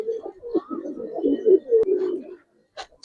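Giribaz and coloured pigeons coo up close in a loft in Narayanganj, a soft, rolling low coo lasting a couple of seconds, followed by a brief rustle and a faint chirp.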